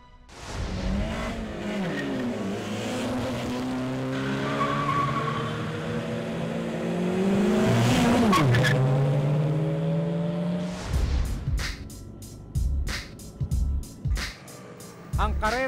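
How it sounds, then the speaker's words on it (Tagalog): Motorcycles racing in a street race on Macapagal Boulevard, engines revving and roaring past close by in rising and falling sweeps, followed by sharper intermittent bursts near the end. "Ang karera ng motorsiklo sa Macapagal Boulevard, malakihan ang pustahan."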